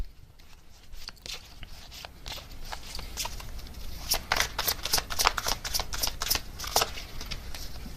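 Close riffling and shuffling of a tarot deck, soft at first, then a quick run of crisp flutters and slaps that grows louder toward the end.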